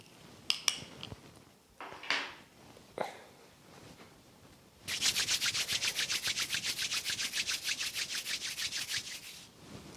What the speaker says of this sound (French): On frotte les mains, on les chauffe bien.